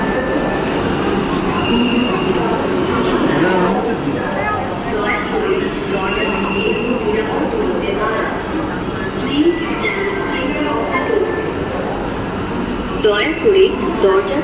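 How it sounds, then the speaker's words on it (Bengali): A metro rail train runs through a crowded station, a continuous loud rumble with rail noise and faint squeals while people talk throughout. "মেট্রো রেল চলে এসেছে"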